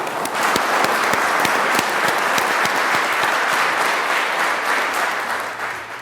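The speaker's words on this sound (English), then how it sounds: "a big round of applause to our panel" A conference audience at the Oxford Farming Conference applauds a panel, a full, steady round of clapping with some sharp individual claps standing out, fading slightly toward the end.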